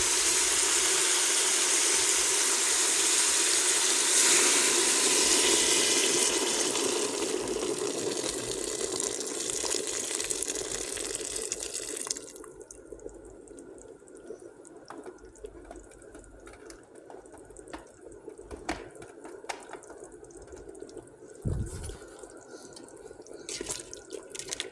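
Water pours steadily into a cooking pot holding meat for salona laham, a loud continuous splashing rush that fills the first half, then drops to quieter trickling and faint kitchen clatter.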